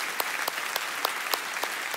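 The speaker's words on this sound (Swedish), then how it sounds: "det är värda applåder till Risberg" Audience applause for a bass player introduced on stage during a Christmas Eve concert, a steady wash of many hands clapping with periodic sharper claps standing out, fairly loud and close, with no talking over it.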